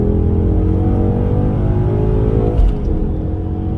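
A Ford car with the performance pack runs at a loud, steady engine pitch, its sustained rev holding near and close with a brief bump partway through.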